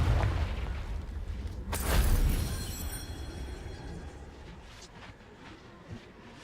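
A Confringo spell explosion in Hogwarts Legacy, a rumbling boom that swells to a sharp burst around the middle, then decays into fainter debris crackles and a small late pop.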